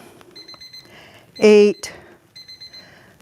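An exercise interval timer emits short, bright electronic beeps in quick repeated bursts, followed by a longer louder tone, while a voice nearby counts a workout repetition aloud.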